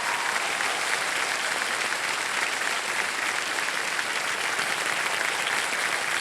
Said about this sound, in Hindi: ताली शोर मचाते रहिएगा।